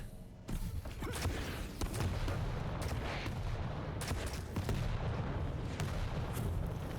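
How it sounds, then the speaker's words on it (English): Rockets fired from a rocket launcher in a Quake duel, a dense barrage of loud booming launches and explosions stacked over a continuous rumbling roar, with no talk. "More rockets coming out though."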